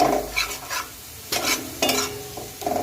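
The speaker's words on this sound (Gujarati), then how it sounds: "હવે આને આપણે બરાબર સાંકળી લઈએ જેથી મસાલો આપણો સરસ શેકાઈ જાય" A spoon stirs spice masala frying in a pan with a few spoonfuls of water, giving repeated scraping strokes over a soft sizzle, close and without talk.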